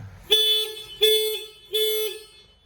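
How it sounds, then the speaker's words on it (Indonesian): A Honda Beat Deluxe motorcycle anti-theft alarm sounds three loud, shrill electronic blasts, each lasting about half a second, separated by short gaps. "5 detik alarm berbunyi, kita sentuh sensornya."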